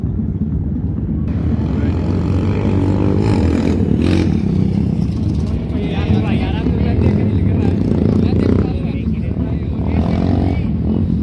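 Royal Enfield motorcycles circle a riding track, their engines forming a steady, loud, rumbling drone that holds throughout, with voices talking over it.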